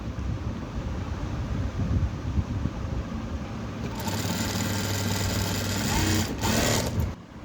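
A sewing machine stitches a blouse in a continuous close whirring run, steady at first, then louder and brighter in the second half before easing off near the end.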